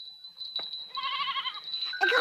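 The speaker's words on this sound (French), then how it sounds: "tu vois bien que les chèvres ne veulent pas partir sans moi" Goats bleating in an Alpine mountain pasture, a wavering, quavering bleat rising mid-clip over a thin steady high tone, with a brief burst of another sound at the end.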